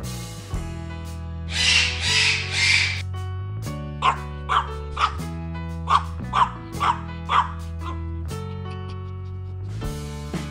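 A small cinnamon-colored chihuahua in a cartoon barks in quick, sharp yips, a series of about eight short barks over light background music, after an earlier burst of noise.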